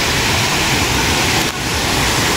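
Dolo waterfall in Kediri on the slopes of Mount Wilis, a loud, unbroken broadband roar of falling water that fills the whole short stretch with no voices.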